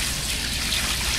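Water at about 110 degrees Fahrenheit pours into a photographic developing tray as a brief, steady splashing trickle, close by with no speech.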